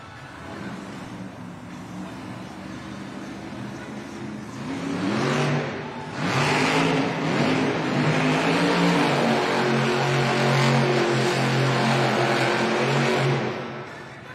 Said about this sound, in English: Up next, representing Team Throttle Monster, Corey Rummel, Earthshaker.